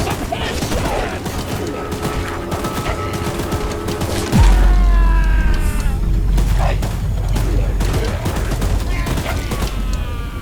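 Mounted gun firing rapid bursts at a monster in the Choo-Choo Charles video game, loud dense fusillade with booming impacts and mechanical whines rising over it, continuous throughout.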